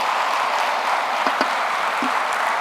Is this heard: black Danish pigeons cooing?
no